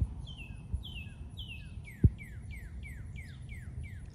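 Small songbirds sing in a vegetable garden during a green bean harvest, a repeated series of bright descending chirps, clear but moderately distant, with one brief thump partway through and no talking.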